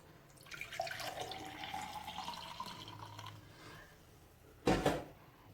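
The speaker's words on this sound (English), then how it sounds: "So I'm going to pour this into a glass." Homemade coconut milk poured from a container into a glass in a home kitchen, a steady liquid pour running for several seconds, followed by a brief louder splash or clatter near the end.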